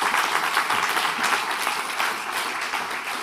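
Audience applause at the close of a talk, a dense, steady wash of many hands clapping throughout, loud and continuous, fading slightly toward the end.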